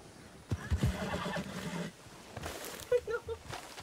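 A horse neighs in the Red Dead Redemption II RedM roleplay game: a brief, moderately loud whinny followed by scattered game sounds and a few short tonal calls.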